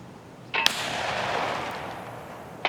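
An enemy bot's gun fires in Escape From Tarkov, two sharp shots about two seconds apart, the first followed by a long rolling echo that decays slowly.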